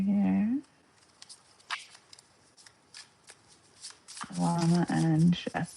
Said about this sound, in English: I shuffle a little better here.